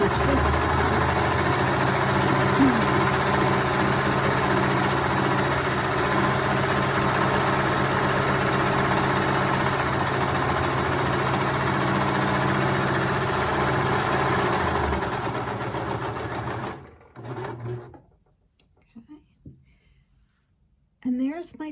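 A three-thread serger stitches a hem on knit fabric with a loud, steady motor hum that runs continuously for about fifteen seconds before stopping, followed by a few faint clicks.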